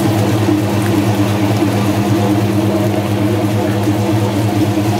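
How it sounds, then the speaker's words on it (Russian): An NT-600 poultry plucking machine with water running spins up, a steady loud mechanical whir with low humming tones holding constant throughout, heard alone without voices. "Включаем машину и даем ей раскрутиться."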